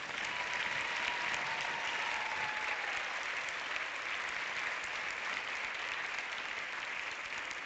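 Audience at a European cinema award event applauding a film director, a sustained, even wash of clapping from a large crowd that stays steady and full for the whole stretch.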